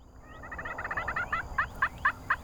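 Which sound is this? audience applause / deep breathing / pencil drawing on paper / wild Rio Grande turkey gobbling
wild Rio Grande turkey gobbling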